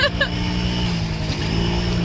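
A motorbike carrying a passenger hums at a steady low drone as it rides along, with a brief voice and a few short chirps near the start.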